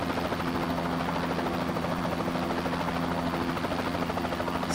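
Bell 206B3 helicopter hovering in Microsoft Flight Simulator, a steady unbroken rotor and turbine drone with a constant buzzing hum, loud and close throughout.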